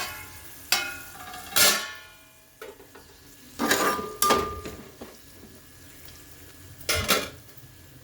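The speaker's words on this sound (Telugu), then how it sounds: "మూత పెట్టేద్దాం." Metal pot and lid clanks while cooking moong dal: several sharp, separate clatters and scrapes of metal cookware at irregular intervals, close and loud against a quiet background.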